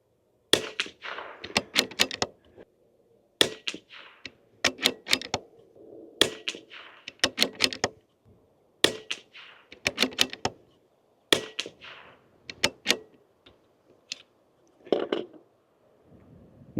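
Sharp cracks from a .22LR rifle firing Eley Ultra ammunition at a range, each report clear and separated by pauses in a steady rhythm, with faint voices between.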